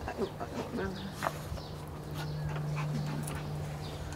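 Puppy in a home yard whimpering in short, faint whines amid outdoor ambience, with people talking intermittently nearby.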